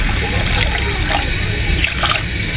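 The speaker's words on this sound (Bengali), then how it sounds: "আর একটু অল্প একটু পানি দিয়ে দিচ্ছি" A small amount of water pours and splashes into masoor lentils in a kadai, a close, steady watery rush lasting a couple of seconds.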